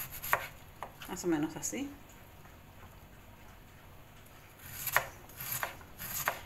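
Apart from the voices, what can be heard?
knife chopping cabbage into fine julienne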